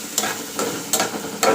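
Potatoes frying in plenty of oil in a home kitchen, a continuous soft sizzle broken by four brief scraping stirs of a spatula against the pan, close and fairly quiet.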